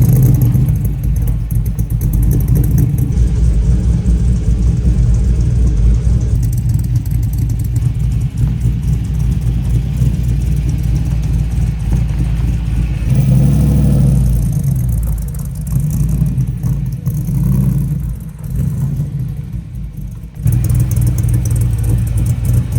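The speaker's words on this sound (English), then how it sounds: "we are starting this engine up at 10 o'clock at night" Supercharged Hellcat LS engine in a tow truck idling loud and steady, with a rough, heavy rumble and a few revving swells partway through; no talking.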